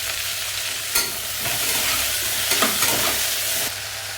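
Onions sauté in a pan for chicken curry, a loud, close, continuous sizzle broken by rhythmic stirring scrapes, with no talking.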